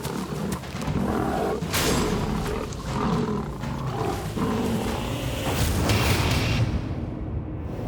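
A young tiger clashes with an older rival, both letting out loud, rough, overlapping roars and growls amid thumps and scuffling, sustained throughout with brief bursts of greater intensity.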